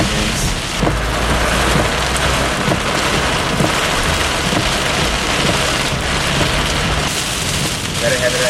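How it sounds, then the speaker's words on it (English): Very heavy rain pours during a Florida thunderstorm, a loud, dense, unbroken roar of drops drumming on surfaces close by for the whole stretch. "Very heavy rain."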